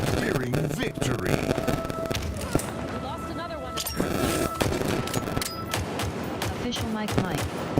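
Rapid gunfire and explosions from the video game Halo crackle in dense bursts throughout, layered under ongoing talk.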